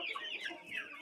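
A young rooster among a flock of chicks clucks and chatters steadily at close range, a continuous busy stream of calls without pauses.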